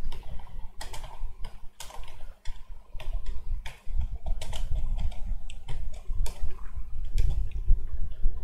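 Code is typed on a computer keyboard while writing a Visual Studio Code snippet, with clusters of crisp key clicks in an uneven rhythm, close and clear with no talking.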